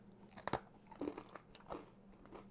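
Vegan brownie brittle snapping into crunchy little pieces, a handful of sharp cracks close up, loudest near the start and then spaced out, with no talking.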